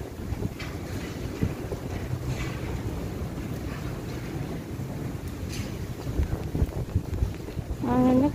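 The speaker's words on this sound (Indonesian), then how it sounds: "Anginnya kenceng banget." Strong wind buffets the microphone outdoors on a dairy farm, a steady loud rumble with gusts throughout, and a brief tonal sound rises near the end.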